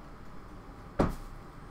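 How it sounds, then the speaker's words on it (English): A single soft thud with a brief rattle as a cat lands after jumping down off a bunny cage, close by against quiet room noise. "That was my cat jumping down off of the top of the bunny cage."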